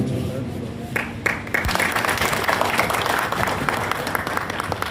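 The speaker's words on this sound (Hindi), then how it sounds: "इन सब का तालियों के गुनगुनाहट से इस्तकबाल हो, उनका सम्मान हो" Audience at a district collector's ceremony applauding the top NEET exam scorers, steady dense clapping throughout with a few voices mixed in.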